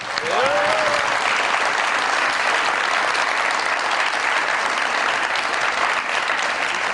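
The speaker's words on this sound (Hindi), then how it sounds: "बहुत सारी तालियों में वेलकम कहते हैं" A studio audience claps loudly and steadily to welcome a guest on a Pakistani comedy talk show, the dense applause holding at an even level throughout with a brief whistle near the start.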